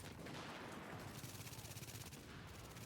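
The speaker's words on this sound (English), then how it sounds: "I just switch to my submachine gun and watch me melt the enemies in comparison" Rapid submachine gun fire in The Division, a fast continuous stream of shots at fairly low level, with a dense rattling texture through the whole stretch.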